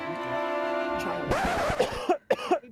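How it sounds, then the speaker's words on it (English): A sustained tone gives way to a burst of harsh coughing up close, followed by a few short, sharp coughs. "I was trying to hold in a cough"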